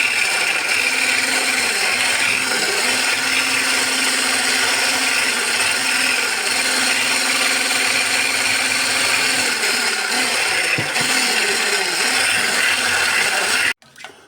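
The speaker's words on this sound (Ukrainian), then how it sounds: "Отак я збиваю і поступово додаю цукор." A blender whips green apple puree with sugar for marshmallow, giving a loud, steady, gritty whir that runs unbroken and then cuts off abruptly near the end.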